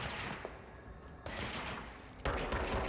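Shooting in the video game Control, a steady barrage of loud, dense gunfire that grows heavier partway through and keeps going to the end with no talk over it.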